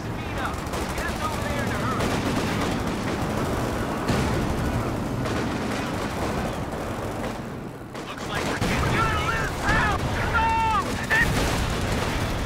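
Machine gun fire and battle explosions in the World War II strategy game Company of Heroes, set at Bastogne, with dense continuous gunfire bursts and booms throughout and a voice speaking over the din.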